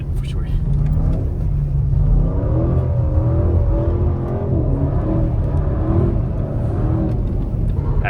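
An Audi RS6 C8 accelerates hard through snow, its engine rising in pitch through the gears with a deep rumbling growl and whirring, heard from inside the car.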